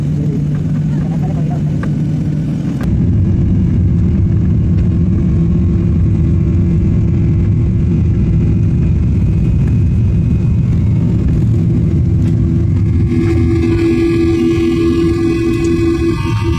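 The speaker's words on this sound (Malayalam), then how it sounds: "അപ്പോൾ ഇവിടുന്ന് ഫ്ലൈറ്റ് വിട്ടിട്ടുണ്ട്" Passenger airliner on a Kannur to Sharjah flight just after takeoff, its engines a steady loud low roar and cabin hum filling the whole stretch, with a brief shift in tone partway through and a rise near the end.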